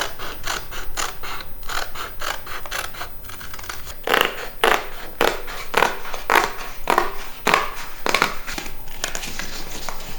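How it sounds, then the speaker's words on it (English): Scissors snip steadily through paper book pages, cutting around traced shapes in a quick run of crisp, close cuts with rustling paper between strokes and no voices. "Then I cut out around where I've traced."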